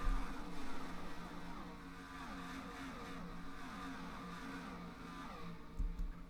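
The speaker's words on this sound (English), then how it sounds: "Joe Gibbs their first win of the season as the 18 car cruises to victory here at Homestead in overtime." Stock car engines drone steadily at Homestead-Miami in a racing video game as the 18 car takes the win in overtime, a continuous layered roar with a slight swell near the end.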